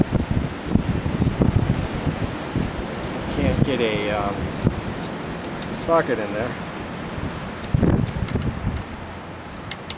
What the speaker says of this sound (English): It's like really windy.